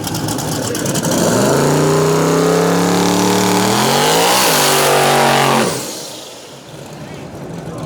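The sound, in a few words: twin turbo 5.3 LS box body drag car revving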